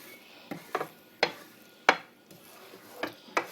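Spatula stirring Colombian scrambled eggs (huevos pericos) in a pan, a series of short scraping strokes at uneven intervals over faint sizzling, close and fairly quiet.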